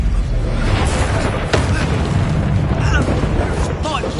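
Expulso spell explosions in Hogwarts Legacy form a loud, continuous barrage of booms and bursts with a sharp crack near the middle, layered over dense game effects and voices.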